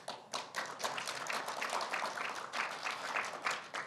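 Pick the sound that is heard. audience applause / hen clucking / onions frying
audience applause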